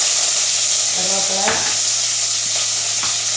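Mustard seeds and curry leaves spluttering in hot oil on a low flame, a loud continuous hiss broken by a few quick pops and crackles.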